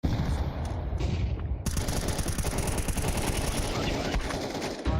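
Rapid automatic gunfire in Counter-Strike 2 rattles continuously and loudly through the whole stretch, a dense burst of shots filling the mix.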